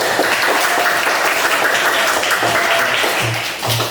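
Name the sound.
classroom applause for a student group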